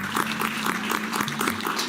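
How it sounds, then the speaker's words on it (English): Live studio audience clapping in a steady, dense patter throughout, fairly close and moderately loud, with no speech on top. "Round of applause."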